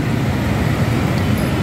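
Congested street traffic near Praça dos Andradas in Santos, opposite the bus station: a dense, steady low roar of engines and road noise, close and continuous, with no talk.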